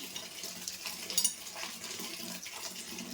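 Water runs and splashes nearby as puffed rice is rinsed by hand, with soft sloshing and a brief louder gush partway through.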